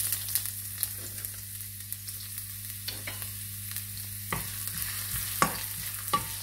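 Pork trotter adobo with oil, salt, pepper and Sprite cooking in a pan, a steady low sizzle running throughout with scattered stirring scrapes and clinks, no voices.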